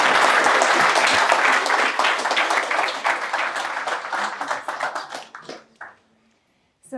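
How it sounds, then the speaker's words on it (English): Audience applause at the final of a student investment challenge, a dense crowd of clapping hands that holds steady, then thins out and stops near the end. "So thank you very much, Romana, and a big applause again to you."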